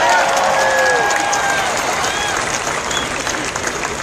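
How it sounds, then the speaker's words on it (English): A crowd claps steadily for Chief Beck at an outdoor ceremony at Los Angeles City Hall honoring Adam West, the dense applause mixed with a few whistles and cheers and slowly thinning over four seconds. "Let's give Chief Beck a round of applause."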